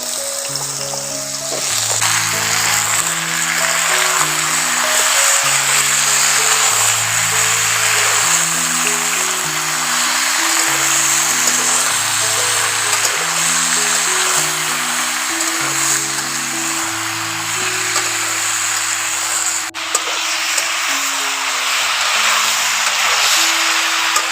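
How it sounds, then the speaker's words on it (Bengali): Pumpkin pieces fry in hot oil, a steady, even sizzle that hisses throughout, with soft music playing underneath and no talking. "গরম তেলের মধ্যে কুমড়োটা দিয়ে দিচ্ছি"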